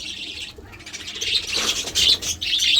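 Budgerigars chirp and twitter in bursts while eating, with overlapping bright calls from several birds close by and short pauses between flurries.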